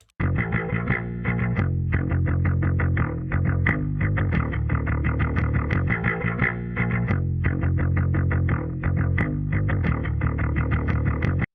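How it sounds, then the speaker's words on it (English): A thick, distorted bass guitar plays a steady riff, loud and continuous, with a punchy, compressed tone and no voices. "you just have a really punchy bass sound"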